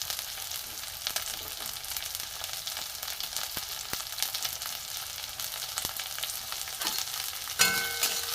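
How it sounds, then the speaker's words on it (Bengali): Chopped onion and green chilli sizzle and crackle steadily in hot oil in a pan, a dense close frying hiss with occasional stirring scrapes and a brief louder burst near the end. "একটু ভাজা ভাজা হোক"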